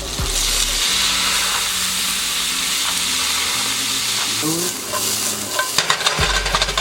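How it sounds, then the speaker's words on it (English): White wine poured into a buttered pan after cooking scallops, giving a loud steady sizzle and hiss with stirring, and a brief burst of sharper spitting toward the end. "We deglaze the pan with a little bit of white wine."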